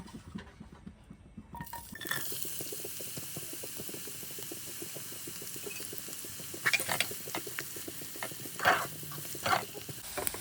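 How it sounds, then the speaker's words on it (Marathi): Chopped onion drops into a small amount of hot oil in a pan for jackfruit vegetable, a steady close sizzle with a few clinks of a spoon against the pan. "तेल तापलं आहे, मी तर कांदा घालून घेते।"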